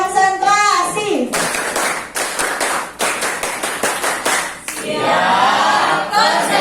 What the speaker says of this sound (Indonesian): Oke, tepuk tangan lagi buat semua